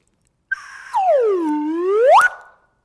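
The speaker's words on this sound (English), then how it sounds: "some added sound effects, like the slide whistle" A slide whistle played as a percussion sound effect gives one clear tone that swoops down and then glides back up, loud and alone, lasting under two seconds.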